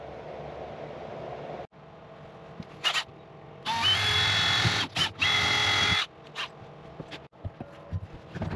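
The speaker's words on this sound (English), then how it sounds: "Okay, let's get that hole drilled." Electric drill boring a hole through the wall of a tiny house during siding prep, with a few short whirring bursts and one longer sustained run, close and loud over a quiet room background.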